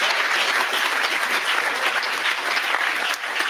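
Steady applause from a crowd at a California reparations task force hearing, dense and sustained clapping throughout, fairly loud and close, with a slight dip near the end.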